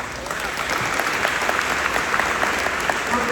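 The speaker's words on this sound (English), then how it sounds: "we owe them a round of applause for their hard work" An audience at a Shreveport mayoral forum gives police officers a sustained round of applause, with dense, steady clapping throughout and no talking over it.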